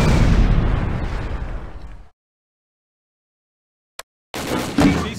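Heavy gunfire and explosions from an Arma military shooter game roar loudly and densely for about two seconds, then stop dead into silence, broken by a single sharp crack before another burst of fire resumes.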